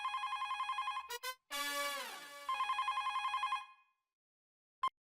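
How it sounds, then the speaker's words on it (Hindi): A telephone rings at home with fast, repeated electronic trill pulses. After a brief break it rings again, then stops, followed by one short beep, with no voices. "बेटा जरा फोन उठाना।"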